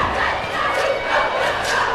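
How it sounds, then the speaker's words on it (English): Basketball crowd at a high school game between the Weldon Chargers and NW Vikings, a steady broad murmur of many voices with scattered shouts, holding at an even level throughout. "A little commotion here as the crowd is getting a little anxious"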